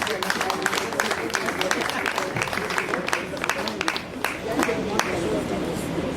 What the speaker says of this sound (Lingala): Des applaudissements pour le président, s'il vous plaît.